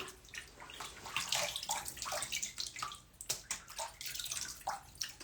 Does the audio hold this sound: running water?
yes